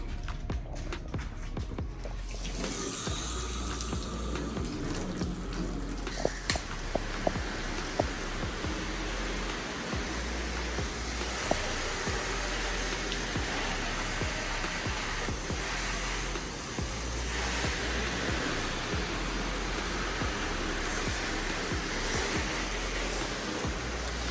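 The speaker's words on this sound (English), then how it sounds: "Let me get the hose here. Let's rinse this off." Garden hose rinsing a car, a steady broadband spray of water running continuously for the whole stretch, with a few faint knocks and footsteps beneath it.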